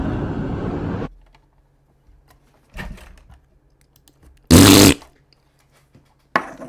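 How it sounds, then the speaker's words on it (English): A loud, brief fart bursts out alone, separated by quiet from a few fainter scattered noises. "That's a whole ass fart"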